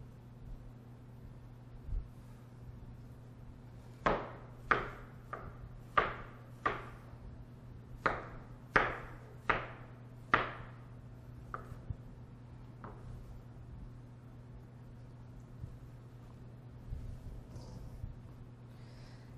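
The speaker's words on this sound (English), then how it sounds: "you can take them back out and cut them up" A knife cuts roasted cauliflower pieces for Buffalo and honey garlic cauliflower, a run of about a dozen crisp, evenly spaced taps on a board over a low steady hum, then a few scattered softer sounds.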